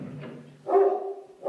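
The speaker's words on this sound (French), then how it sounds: "C'est le voisin qui descend promener son chien." A neighbour's Labrador barks on its way down for a walk, two or three short muffled woofs heard indoors at moderate distance, with nobody talking.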